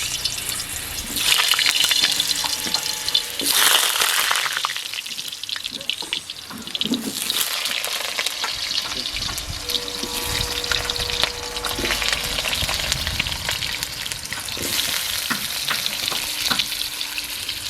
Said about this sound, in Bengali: আলুগুলো মাটির হাঁড়িতে খুব ভালোভাবে ভাজা যাবে না, তাই আমি কড়াইতে ভেজে নিচ্ছি আলুগুলো